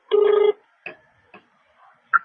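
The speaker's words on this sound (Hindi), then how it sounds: "इस मामले के लिए हमने फोन लगाया है सिराली थाना प्रभारी सीताराम पटेल जी के पास" An outgoing phone call to a police station starts with a single steady electronic ring tone, followed by a few short, faint clicks and a brief high beep near the end.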